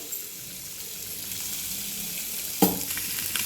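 Fish shallow frying in a little oil, a steady close hiss and sizzle that flares into louder spitting near the end.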